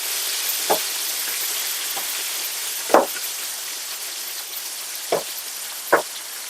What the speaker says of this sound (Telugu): తర్వాత కొత్తిమీర, తెల్లగడ్డ వేసి కొద్దిగా వేగి